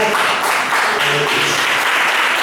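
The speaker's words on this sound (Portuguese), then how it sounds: "Vamos aplaudir a palavra do Senhor" Loud, dense applause from a church congregation during a Portuguese-language service, close and continuous clapping with some indistinct voices mixed in.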